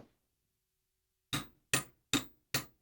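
Four sharp metallic hammer taps seat a timing gear onto an engine crankshaft at a steady rhythm after a short silence, close by and fairly light.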